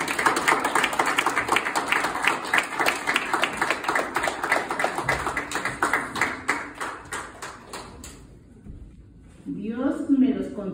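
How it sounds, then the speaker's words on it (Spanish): Loud wedding crowd applause with sustained clapping for several seconds, fading out, followed by a voice speaking. "Y recibamos con un fuerte aplauso"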